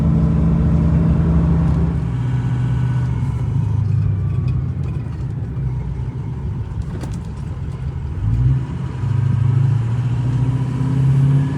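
A Ford 6.0 Powerstroke diesel pickup engine, towing a fifth-wheel trailer, drones and revs high in a steady loud roar, with a lower surge late in the run before climbing again.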